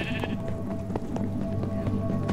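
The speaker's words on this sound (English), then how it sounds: "There's a sheep." A sheep bleats in Minecraft Dungeons, a short wavering call near the start over a busy, constant game background of low rumble and clicks, fairly faint and without talking.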